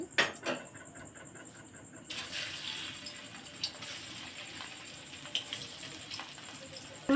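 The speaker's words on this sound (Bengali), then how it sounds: "এবার একটা করে দিয়ে ভেজে নেবো" Pumpkin-and-potato barfi pieces go into hot oil in a kadai, bringing on a soft, steady hiss of frying after a few brief clinks at the start; fairly faint and alone.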